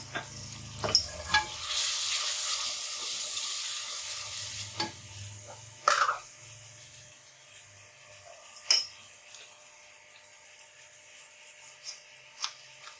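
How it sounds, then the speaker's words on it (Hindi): Spice paste with turmeric, ginger powder and chilli paste frying and being stirred in a pan for aloo palak, a steady sizzle with scattered scrapes and clinks of the spoon, close and moderately loud, with no talking. "अब इसको फ्राई करेंगे"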